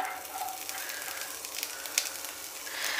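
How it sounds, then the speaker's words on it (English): Seven to eight garlic pods and one diced medium onion sizzle in hot oil, a soft, steady frying hiss with a few faint crackles throughout and no talking. "So I've taken almost 7 to 8 pods of garlic and 1 medium onion which I have diced. Let's drop them one by one"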